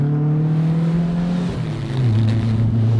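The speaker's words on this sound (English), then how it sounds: "You gotta get it in gear here. Sweet little Beetle. And she will go." A 1970 Volkswagen Beetle convertible's air-cooled engine revs loud and close, a steady buzzing drone whose pitch dips midway and then settles lower as it pulls away in gear, with no talking.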